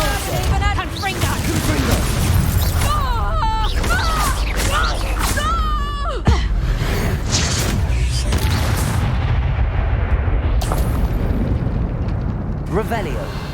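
Confringo blasting spells in the Hogwarts Legacy video game, a continuous loud barrage of booming explosions and magical effects amid combat, with a voice shouting over the din.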